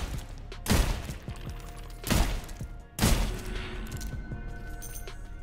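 Pistol fire in the video game Sulfur, three sharp, separate shots spaced about a second apart, each leaving a reverberant cave-like tail, with a steady low game ambience underneath and no speech.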